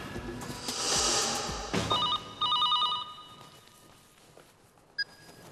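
A telephone rings in a police office scene: two short bursts of a warbling electronic ring follow a brief rustle, with quiet room tone between and a single click near the end.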